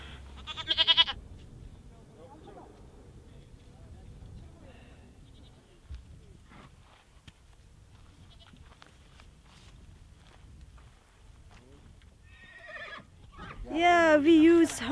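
A horse in Mongolia whinnies loudly near the end, its wavering call rising above a low, rustling background with faint scattered noises.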